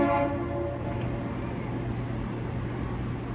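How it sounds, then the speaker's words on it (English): A train horn sounds briefly at the start, a few tonal blasts fading into a steady low rumble of rail noise with no talking. "now we hear the honking of the train in the middle of my video"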